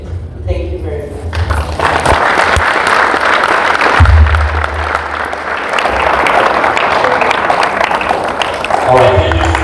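A crowd at a public event applauds the speaker Roya with steady, loud clapping. Voices and background music run underneath.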